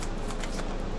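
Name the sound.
shuffling a deck of tarot cards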